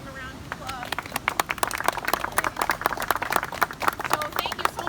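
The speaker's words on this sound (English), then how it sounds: "if we can give them a round of applause" A small outdoor crowd at a mining history sign dedication claps for the highway crew, a scattered round of applause lasting several seconds, with voices mixed in.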